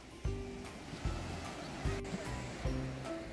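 Ocean waves at a Hawaii beach, a continuous broad wash of surf with repeated low thumps as waves break, heard close up against steady wind-like noise.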